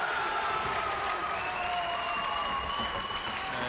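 Sustained applause from a Barnsley crowd at a 2009 Nepomuceno versus Barrett match, a dense, steady clatter of clapping across a large audience with faint cheering mixed in, no gaps throughout.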